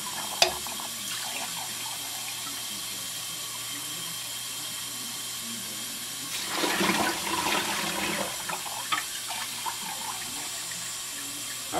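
Water runs from a sink tap while tumbled rocks are rinsed, a steady hiss throughout that swells into a louder splashing rush midway, with a few faint clicks and knocks of stones.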